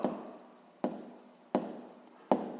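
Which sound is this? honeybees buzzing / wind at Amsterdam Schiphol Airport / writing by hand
writing by hand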